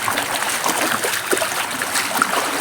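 Floodwater flowing steadily after a day of rain, a continuous close rushing and trickling wash with occasional small splashes.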